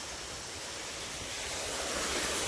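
Irrigation water pours steadily into a carrot field bed, a broad continuous rushing wash that swells slightly, with no voices.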